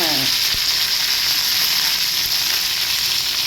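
Cumin seeds and curry leaves crackle loudly in hot oil in a pan, a dense continuous hiss right up close with a brief splutter at the start.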